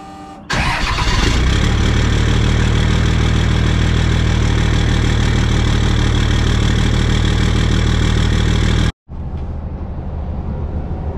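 A compound-turbo 12-valve Cummins diesel truck engine cranks, catches and settles into a loud, steady rumbling idle. It cuts off abruptly near the end, and a quieter running drone follows.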